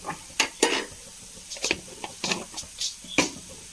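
Fenugreek seeds frying in hot oil for a Kerala-style sambar, with a steady sizzle broken by sharp, repeated spoon-scraping strokes against the pan, close up and with no talking.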